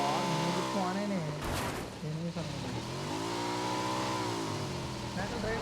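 A car engine in the mobile game BGMI revving and accelerating, a steady droning motor that rises and falls in pitch, with a player's voice talking over it throughout.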